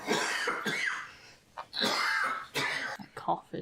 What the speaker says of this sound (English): That cough is just... It's getting worse.